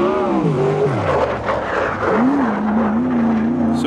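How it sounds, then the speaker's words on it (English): A sprint car engine screams at high revs, pitch rising and falling as it shifts and rounds the track, loud and continuous. "There's just nothing in the world like the sound of a race car"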